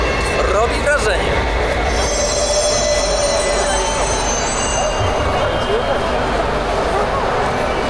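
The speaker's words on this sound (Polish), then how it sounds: "Jesteśmy w algierskim metrze. Jedyne metro w Afryce Północnej." A train of the Algiers metro runs underground with a loud, continuous rumble, wheel squeal and rising whine, close and steady throughout.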